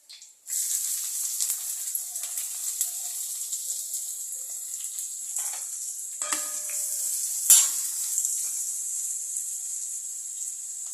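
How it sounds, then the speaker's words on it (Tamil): Cinnamon, cloves, fennel seeds and onion hit hot oil and set off a bright, steady sizzle that holds strongly throughout, close up, with a few louder crackles and stirring scrapes. "பட்டை லவங்கம் சோம்பை போட்டு தாளிச்சிக்கலாம் வெங்காயம் போட்டுக்கலாம்"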